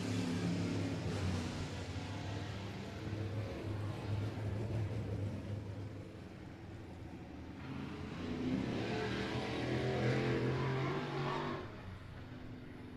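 A black and purple number 4 race car at I-37 Speedway, a dirt oval, rumbles from mid-distance as it laps, the engine note rising and falling in two swells of acceleration.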